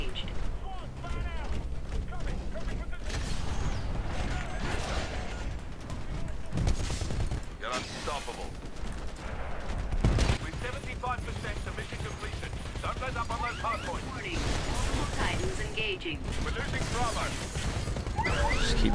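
Rapid bursts of gunfire in a Titanfall hardpoint match ring out almost continuously alongside mechanical game effects, with a voice talking over the shooting throughout.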